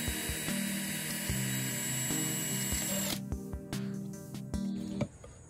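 A power drill bores a hole through the top of a hanging plant pot, a steady close whine with rhythmic pulsing that runs for about three seconds and then stops, leaving faint clicks and handling noise.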